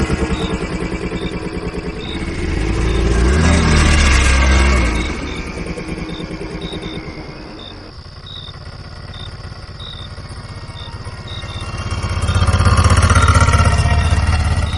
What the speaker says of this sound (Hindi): ऑटो में बैठते ही राजू भाई ने चुपचाप इंजन स्टार्ट किया